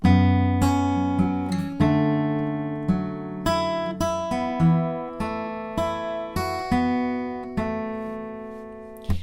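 Clean guitar notes plucked one at a time, ringing and overlapping into a slow picked chord line, played alone with no voices.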